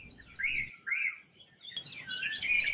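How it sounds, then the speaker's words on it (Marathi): A grey-headed myna calls from near a window, giving a few clear chirping phrases in two bursts separated by a short pause, fairly close and with no talking. "ही आहे राखी डोक्याची मैना"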